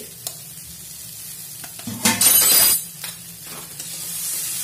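Green chilies and a spoon of cumin powder dropped into frying eggplant, potato and flat beans, giving a loud burst of sizzling and stirring midway amid softer pan crackle.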